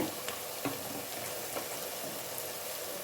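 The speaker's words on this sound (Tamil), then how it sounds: "எண்ணெய் ஊற்றி வெறும் எண்ணெய் மட்டும் காய வச்சு வெங்காயம் வதங்கின்னு இருக்குது" Onions sautéing in hot oil in a pot for chicken biryani, producing a constant close sizzle with occasional sharper pops and faint stirring, and no speech over it.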